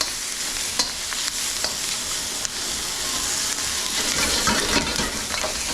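Mushrooms stir-fry in a hot pan for mu shu pork, giving loud, dense, unbroken sizzling throughout with light scrapes and clicks of a utensil tossing them close by.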